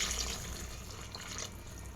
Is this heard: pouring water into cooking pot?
yes